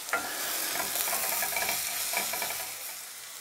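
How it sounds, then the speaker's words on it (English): Vegetables sweating with sage in a pan before lentils go in, a steady soft sizzle with intermittent scraping stirs throughout, close and moderately loud, with no talking. "I always do this before cooking lentils, sweat off the vegetables because it adds sweetness."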